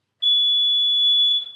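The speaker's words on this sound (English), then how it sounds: "An easy way to check if the alarm is working is to simply put your 2 fingers on the sensors." A water leak sensor alarm sounds off when two fingers bridge its sensor contacts: one loud, sustained, piercing electronic beep held steady for over a second, close and alone with no talk.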